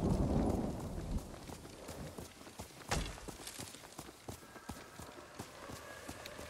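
Horse hooves clip-clopping in Ghost of Tsushima, a run of light rhythmic hoofbeats that slows from a gallop toward a walk, moderately close over quiet game ambience.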